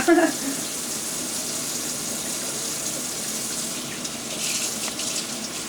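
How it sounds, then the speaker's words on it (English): Warm tap water running steadily while makeup brushes are rinsed at a sink, a continuous close splashing hiss with a brief clatter at the start and slight surges toward the end. "Use warm water and just rinse it until it's clear."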